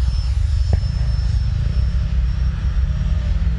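A Freewing JAS-39 Gripen RC model jet with a turbine flies past, a loud continuous engine roar that holds steady throughout with no talking.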